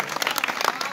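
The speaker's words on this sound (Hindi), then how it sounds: "एक बार जोरदार ताली हो जाए" Audience applause at a Navratri festival poetry gathering, a dense burst of many hands clapping at close range, loud and sustained throughout.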